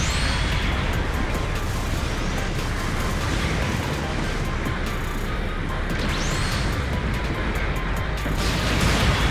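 Destruction of an enemy mobile suit in Gundam Battle Operation 2, heard as a continuous, dense roar of blasts and crashing booms that swells near the end, loud throughout with no voices.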